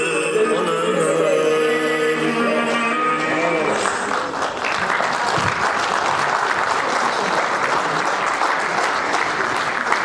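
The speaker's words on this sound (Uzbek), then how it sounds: "Ushbu yoshlarimiz olqishlab qo'yamiz" School pupils finish a song for a March 8 celebration, and the audience breaks into loud, sustained applause that swells from the last sung notes and carries on steadily to the end, with a voice briefly over it.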